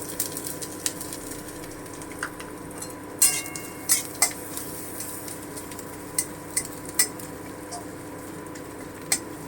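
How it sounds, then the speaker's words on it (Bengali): Chopped ginger fries in a pan with a soft steady sizzle, while a spatula stirs it with scattered clinks and scrapes; a voice talks underneath. "আদাটা একটু ভেজে নেব"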